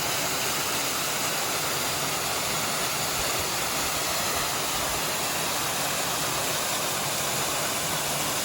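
A waterfall in New Hampshire reached on an autumn hike roars as a dense, continuous broadband rush, steady and fairly close throughout with no voices.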